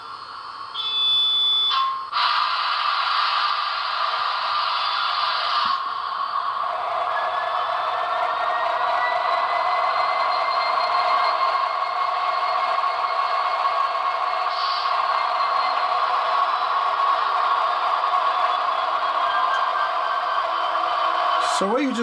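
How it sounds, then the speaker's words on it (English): An N scale Broadway Limited SD70ACE model locomotive with Paragon 3 DCC sound runs its extended startup: a sustained electronic warning tone and rising motor whine from a small speaker, steady and close, ending with a faint click. "You hear the emergency warning for the startup of the locomotive. And then you hear the locomotive start up"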